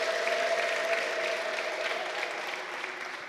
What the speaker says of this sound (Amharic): ኦ አለ ለጌታ እልልታና ጭብጨባ ስጡ